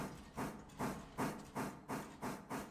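Rhythmic chuffing bursts repeat at a steady pace, like a steam train chugging along, from a train car moving in the video game Railroader, moderately loud with no voices.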